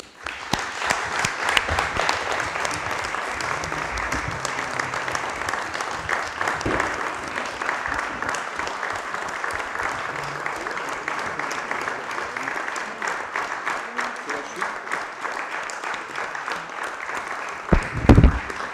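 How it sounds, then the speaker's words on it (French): Steady, prolonged applause fills the room at the Yvetot municipal council meeting, many hands clapping at an even level for a long stretch before a brief louder burst near the end. "je vous demande d'applaudir"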